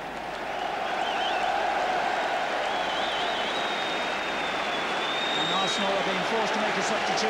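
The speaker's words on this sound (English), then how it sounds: "a huge applause rattling around Highbury for the appearance of Kevin Campbell" A crowd at Highbury applauds Kevin Campbell's appearance during the 1990 Division 1 match between Arsenal and Nottingham Forest. The broad, sustained roar of clapping fills the stadium while a commentator talks over it.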